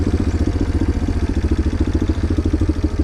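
An old farm motorbike, the first one on the farm, rides along a track with its engine chugging steadily and close, a rhythmic, pulsing putter that stays loud and even throughout.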